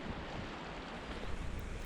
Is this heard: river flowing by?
yes